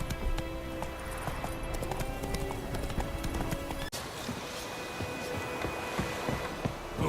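Roach the horse trotting in The Witcher 3, with a steady clip-clop of hooves close by, carried along under game background sound for the whole stretch.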